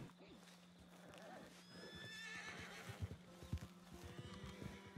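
A spooked horse in Red Dead Redemption II lets out a high whinny and clip-clops off at a gallop, hoofbeats growing heavier over a low steady hum.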